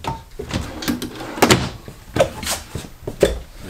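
A few wooden thunks and clatters, one after another, as drawers inside a 2022 Grand Design Reflection 31MB RV are pulled open and pushed shut nearby, with short quiet gaps between.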